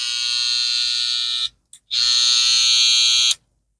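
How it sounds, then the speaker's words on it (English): A high-pitched electric hair clipper with a loud cam follower buzzes steadily up close, cuts off briefly with a short blip, then runs again before switching off. "The cam follower is getting loud."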